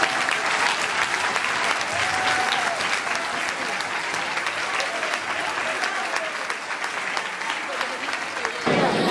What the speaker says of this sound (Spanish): un aplauso para nosotros también